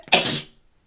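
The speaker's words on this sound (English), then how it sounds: "I'm gonna sneeze" A single loud, close sneeze: a short breathy intake followed by an explosive burst that fades within half a second.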